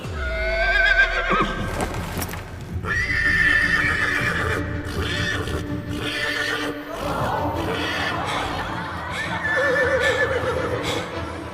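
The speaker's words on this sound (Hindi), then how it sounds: "अब देखो कि मैं इस जंगली घोड़े को कैसे काबू में करता हूं" A wild horse whinnies loudly several times close by, its neighs rising over a dense, busy background with hoof clip-clop mixed in throughout, in a dramatic TV series scene.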